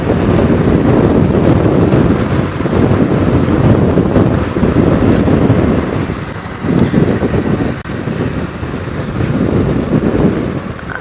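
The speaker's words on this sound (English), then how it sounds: "it's very windy on this airstrip." Strong, steady wind roars and buffets across an open airstrip in the African bush, a constant loud rumble that swells and eases over about eleven seconds with no voices.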